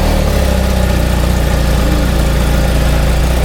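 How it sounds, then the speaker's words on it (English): A BMW GS motorcycle with an aftermarket exhaust idles loud and close with a deep, steady, throbbing exhaust rumble. "We're about to do the start up with the Jekyll and Hyde exhaust."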